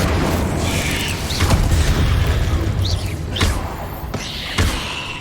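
Fiery spell bursts in Hogwarts Legacy during tomb combat: loud booming whooshes and crackling blasts, several in quick succession over a dense low rumble of game effects, with no talking.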